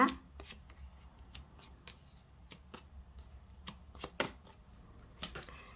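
Tarot cards being shuffled and laid out for a reading, a quick series of soft papery snaps and flicks, close and fairly quiet, in irregular bursts with a low background hum.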